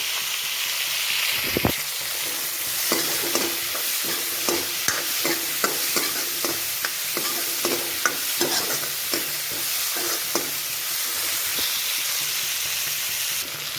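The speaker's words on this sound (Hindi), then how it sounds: "टमाटर ऐड कर देंगे चंकी तरह मिक्स कर देंगे" Thickly sliced onion and chunky tomato sizzle steadily in a pan for dahi tadka, with frequent sharp spatula scrapes and knocks as the mix is stirred up close and no talking.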